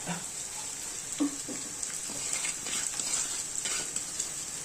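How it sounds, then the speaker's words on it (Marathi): Shredded cabbage added to frying dal in a pan and stirred, producing a steady, fairly quiet sizzle with soft scraping and stirring knocks close by, with no talking. "आता आपण त्यातच भाजी टाकून घ्यायची"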